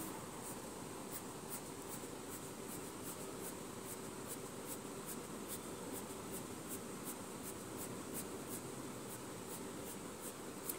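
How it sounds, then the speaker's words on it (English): Staedtler colored pencil shading on a paper sheet, a steady scratchy rasp of continuous strokes with faint regular ticks, close and quiet with no talk. "now we draw any design on the paper"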